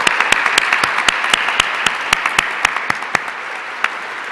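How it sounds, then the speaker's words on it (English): Awards ceremony audience applauding new honorary fellows at an aerospace awards event, steady close clapping with sharp individual claps standing out in an irregular rhythm, thinning slightly toward the end. "One more round of applause for our 3 new honorary fellows."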